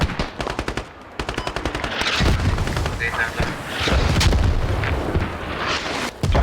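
Video game Squad battle with rapid machine-gun bursts in quick rattling volleys, then heavier booming fire and sustained shooting, loud and continuous, with a voice talking over it.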